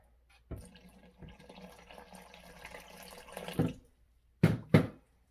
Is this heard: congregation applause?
no